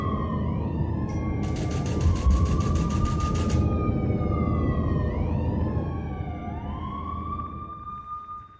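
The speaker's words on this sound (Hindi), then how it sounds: "सायरन की आवाज लगातार बज रही है" An air-raid siren wails in long rising and falling sweeps during rocket attacks in the Israel–Gaza conflict, over a loud rumbling background, with a brief harsh buzzing tone partway through.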